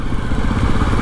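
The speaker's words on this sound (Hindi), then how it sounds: "इंजन की यहाँ पे बात करें तो इसमें 334 cc का single cylinder liquid cooled DUHC engine देखने के लिए मिलता है" Jawa 42 Bobber motorcycle with a 334 cc liquid-cooled single-cylinder engine, running in a steady, close, loud throb with rapid even pulses and no voices over it.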